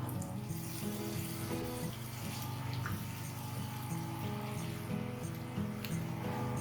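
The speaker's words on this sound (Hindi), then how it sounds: "एक अदद लेमन का जूस है जो मैं इसमें डाल रही हूँ" Lemon juice poured into a yogurt mixture for a bhindi dish, a steady close trickling and splashing stream running continuously without talk.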